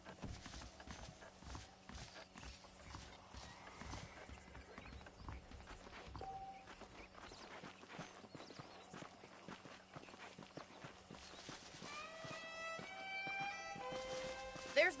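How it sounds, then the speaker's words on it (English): Several saddled horses walk in Red Dead Redemption, with a steady, soft clip-clop of hooves that continues throughout over quiet outdoor ambience, and faint game sounds rise near the end. "The horses are saddled up over here"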